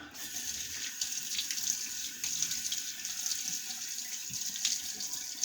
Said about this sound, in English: Let me wet my face, and we'll start loading the brush.